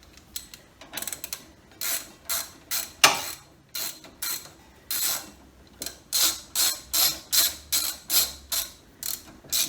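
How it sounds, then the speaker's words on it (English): Ratchet wrench with a 14 mm socket snugging bolts on the front brakes of a Nissan 300ZX Turbo, heard as repeated bursts of rapid clicking, about a dozen close strokes with short pauses between. "Yep, 14 mil socket."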